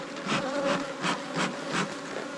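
Agitated honeybees buzz close around an open hive with brood during end-of-season apiary work, a dense droning hum that swells in quick repeated pulses.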